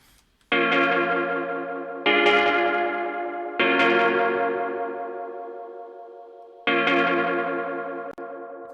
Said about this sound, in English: Let me use the delay in mono, and this is kind of a longer delay.